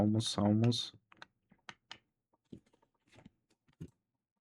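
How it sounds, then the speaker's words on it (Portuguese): Computer keyboard keys pressed in scattered quick clicks after a short burst of talk, fairly close and quiet. "apertei um botãozinho aqui. Mas, enfim, eu tenho que normalmente deixar o teclado mais longe"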